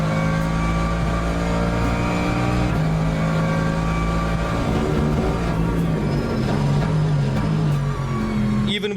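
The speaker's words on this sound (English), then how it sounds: "That transmission whine it hits just right." A Valkyrie car in a video game roars continuously at high revs, a loud engine drone topped with a thin transmission whine, pitch shifting as it accelerates and changes gear.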